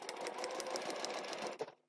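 A sewing machine stitching fabric with a steady, fast mechanical whir and needle patter, running close and continuous before stopping abruptly.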